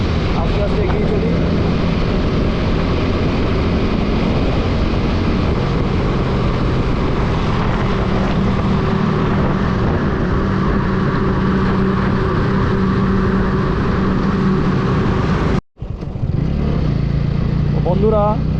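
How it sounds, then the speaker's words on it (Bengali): A car is driven slowly and carefully along a foggy road through dense jungle near Alipurduar. Its engine and road noise produce a continuous, fairly loud rumble that cuts out briefly near the end. "একটু আস্তেও চালাচ্ছি, যেহেতু কুয়াশা আছে, তার সঙ্গে একটু সাবধানতা অবলম্বন করেও চালাচ্ছি।"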